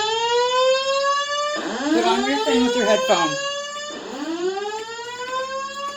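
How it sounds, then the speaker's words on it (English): A fire alarm blares inside a Las Vegas hotel with a loud, sustained electronic tone that repeatedly sweeps and wavers, continuous throughout, while voices talk over it in the middle. "We are currently investigating the alarm."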